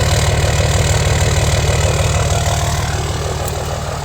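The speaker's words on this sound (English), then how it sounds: "You gotta love the sound of the Cummins." A third-generation 5.9 Cummins diesel idles with a loud, close, steady rhythmic clatter and deep low rumble, easing slightly in level toward the end.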